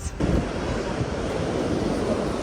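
Surf rolling in at a beach, a steady broadband wash of waves mixed with wind buffeting the microphone, continuous and fairly loud throughout with no talk.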